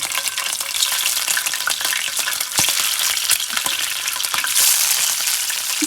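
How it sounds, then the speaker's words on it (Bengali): Hilsa fish pieces frying in hot oil, a loud, close, continuous crackling sizzle with a few stirring or turning sounds, no voices. "আমি এখন মাছগুলো ভাজার জন্য তেলের মধ্যে দিয়ে দেব"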